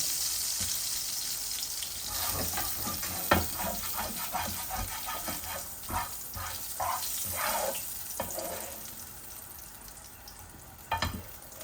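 Three koi fish frying in oil in a pan, a continuous sizzle broken by bursts of spattering and clinks of a utensil, with water running briefly.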